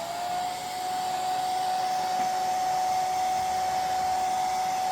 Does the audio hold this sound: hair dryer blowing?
yes